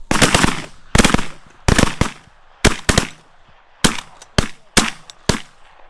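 Loud shotgun volley during a waterfowl hunt, a rapid series of about ten sharp, close blasts in quick irregular succession over roughly six seconds, with no talk between them.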